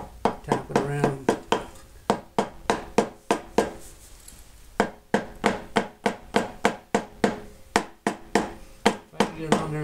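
A hammer taps around the flywheel of a small engine during a flywheel key repair, landing a close, sharp series of metallic knocks in quick bursts with a brief pause midway.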